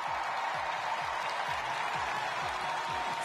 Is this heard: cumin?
no